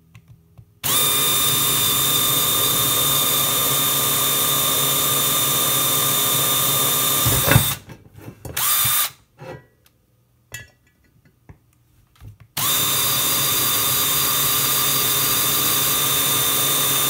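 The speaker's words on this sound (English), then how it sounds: "So now I can take a nice small drill bit." A small drill bit bores through metal with a steady, loud power-drill whine that runs for several seconds, stops with brief scraping and clatter, then starts again and holds steady to the end.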